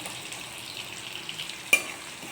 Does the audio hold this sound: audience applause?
no